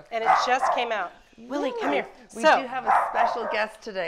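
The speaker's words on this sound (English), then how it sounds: "that's my dog barking in the background" A dog barks, yips and whimpers in the background in a series of short bursts while someone talks over it.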